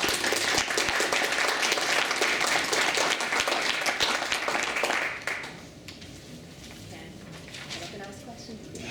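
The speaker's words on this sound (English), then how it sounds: "So I want to give my panel and yourselves a round of applause." Audience applause at a children's wellbeing panel discussion, sustained dense clapping that is loud at first, then drops sharply midway to a thinner, quieter patter.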